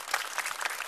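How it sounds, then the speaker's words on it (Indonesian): Lively crowd applause for a comedian at an open-mic stand-up comedy show, a dense, even wash of many clapping hands, fairly faint and distant, lasting under a second. "kita beri tepuk tangannya meriah untuk Awe"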